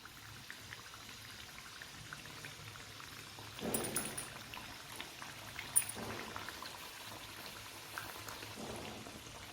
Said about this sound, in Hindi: अब मैं इसी में और कचौड़ी डाल रही हूं।